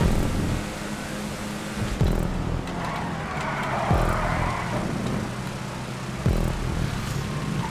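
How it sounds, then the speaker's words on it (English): A car drifting through a turn at a Hotring race in GTA 5 Online: a steady engine roar with tire skid noise and a few sharp gear-shift or impact thumps. "Drifting through the turn is not the fastest way to do this"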